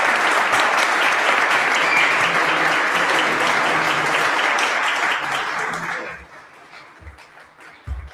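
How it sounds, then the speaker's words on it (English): Loud, dense applause from a conference audience fills the room for about six seconds, then fades into a few scattered claps and murmurs. "Another round of applause for Dr. Ross for coming out."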